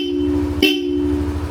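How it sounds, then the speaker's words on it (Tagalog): A Bosch Europa horn fitted to a Yamaha Aerox V3 scooter gives a single quick, loud beep over a steady mechanical hum, close by. "Busina, Bosch Europa,"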